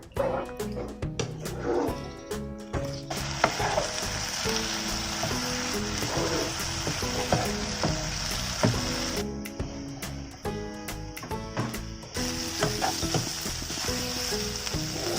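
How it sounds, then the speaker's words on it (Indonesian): Spice paste for fried chicken sizzles steadily in a hot pan, with continuous frying crackle and occasional stirring scrapes, while background music plays throughout. "Ini kita tumis dulu sampai bener-bener matang ya bumbunya ya"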